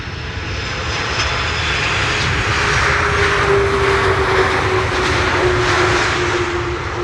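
Saudia airliner landing on Schiphol's Polderbaan runway 18R with idle reverse thrust, a loud, steady engine roar with a faint rising whine, close and continuous, with no talking.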